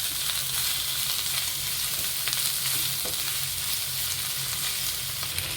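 Chicken fry masala with salt and ginger-garlic paste sizzles steadily in a hot pan while being stirred, a dense, even crackle of frying close up, with no talking.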